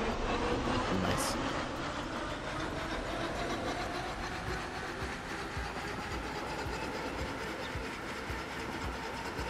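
A locomotive runs along the Mariazellerbahn narrow-gauge line in Transport Fever 2, a steady rolling rumble with continuous rhythmic rail clatter, close and loud with no one talking.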